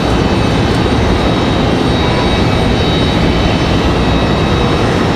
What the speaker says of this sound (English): The American A319 departure, that is American 2607 headed to Philadelphia.